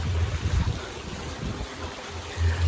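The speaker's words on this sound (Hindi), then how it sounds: "ये चेक कर अंदर से पानी कितना जबरदस्त आ रहा है।" Water gushes steadily into a home-made swimming pool, a close rushing and splashing flow with low rumbling surges, heard alone without talk.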